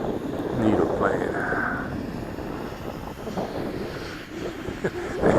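A small Eachine P40 Warhawk RC plane buzzes through gusty wind, its engine whine rising and fading at middle distance beneath rumbling wind noise on the microphone, with a voice speaking over it.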